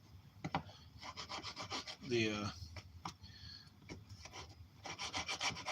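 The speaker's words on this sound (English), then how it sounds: "Now I'm just going to take my chisel and kind of clean it up a little bit" A chisel pares and scrapes wood to clean up a fitting on a clock build. Close rasping, scraping strokes come in short bursts, with a voice talking over parts of them.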